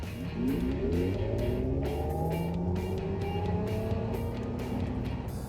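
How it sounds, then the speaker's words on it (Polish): A Mercedes EQE 500 electric car accelerates hard in Sport mode, its electric motor whine climbing steadily in pitch over loud, constant road and tyre roar from inside the cabin. "Korzystając z dobrodziejstw samochodu elektrycznego, nie musimy tutaj załączać programu Launch Control, ponieważ maksymalną moc mamy dostępną zawsze i od samego dołu."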